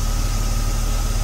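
A BMW car engine idles steadily at close range, a continuous low rumble with a faint vibrating hum and no other sounds.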